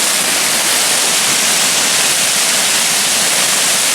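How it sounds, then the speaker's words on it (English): A giant waterfall at Rainbow Falls in Gorges State Park roars as a steady, dense rush of water, loud and unbroken throughout. "this giant waterfall that you were underneath before"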